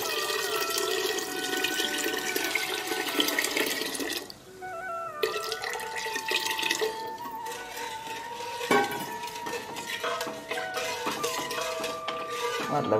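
Two to three glasses of water poured into a pot with milk and sugar for payasam, a close running splash that pauses and resumes with clinks of the vessel.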